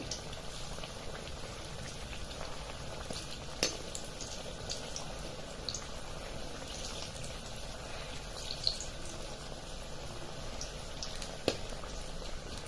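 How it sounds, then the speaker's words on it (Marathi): Potato bhaji frying in hot oil, a continuous soft bubbling sizzle with occasional sharp pops and crackles, steady and close with no talking. "ते पलटून घेणार आणि दुसऱ्या बाजूने सुद्धा फ्राय करून घेणार"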